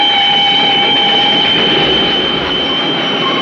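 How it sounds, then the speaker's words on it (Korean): A train being shunted on its rails at a loading stop gives a loud, steady rumble with sustained metallic wheel squeal running throughout, close by and with no voices. "They're just moving the train around."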